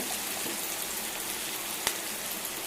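A steady, close sizzle of chopped beans and carrots sautéing in a pan hisses without pause, with a faint pop or tap now and then and no voices.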